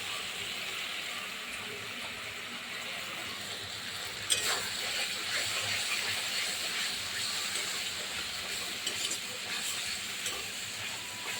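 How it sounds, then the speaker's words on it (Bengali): Chili and cumin paste fries in a pan for tengra fish curry, giving a faint, continuous sizzle and hiss with occasional small clinks of stirring. "লঙ্কা জিরে বাটা সব মশলা একসঙ্গে সুন্দর করে কষানো হচ্ছে।"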